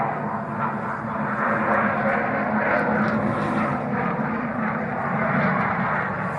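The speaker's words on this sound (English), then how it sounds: "There it goes, rolling the aircraft around" Mirage 2000 fighter jet at the Dubai Airshow, a loud steady engine roar sustained from a distance, broad and unbroken, with no speech over it.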